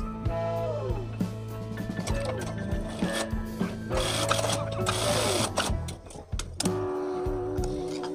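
A sewing machine stitches a batik gamis, running in a steady rapid mechanical whir with ticking needle strokes, stopping briefly and restarting at close range, with a voice speaking now and then.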